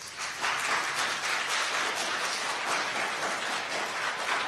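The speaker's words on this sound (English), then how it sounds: "Please refrain from applause." Steady applause from an audience at a candidate forum for state senate and house of delegates seats, a sustained dense patter of many hands with no voices over it.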